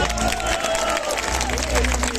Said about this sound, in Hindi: उनके लिए भी ताली बजे जरा।